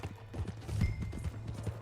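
A horse clip-clops in the Red Dead Redemption 2 video game, with quick rhythmic hoofbeats, moderately near and fairly faint, and no speech over them.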